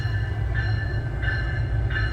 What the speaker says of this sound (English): I'm going to get a view here of this train pulling in